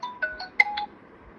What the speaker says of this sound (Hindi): अर्चना जी का फोन आ रहा है।